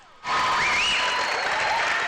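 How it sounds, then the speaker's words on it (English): Family and friends cheer and applaud the graduates at a graduation ceremony, a dense wash of clapping and whoops that bursts in after a quiet moment and holds loud and steady to the end. "family and friends wildly cheering on the graduates"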